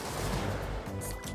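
A missile launched in a video game gives a loud, sustained rushing whoosh with rumbling low bursts, repeating in short pulses that fill the whole moment.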